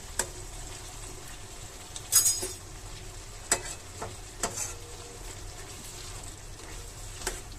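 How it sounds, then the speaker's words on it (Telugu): Ginger and curd being stirred into a tomato curry with a spoon gives a soft, continuous sizzle broken by occasional scrapes and light taps against the pan. "బాగా కలుపుకోవాలి, ఎందుకంటే జింజర్ వేసాము కదా, అది ఒకటే దగ్గర స్టిక్ అయి ఉంటుంది కాబట్టి చాన్సేపు కలుపుకోవాలి."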